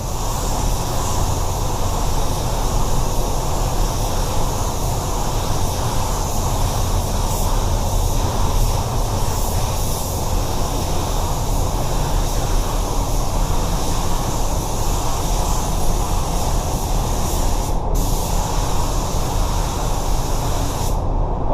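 A spray gun lays three-stage pearl white paint onto a car bumper in a bumper repair blend, giving a loud, continuous close-up hiss of atomized spray with no pauses and no talk.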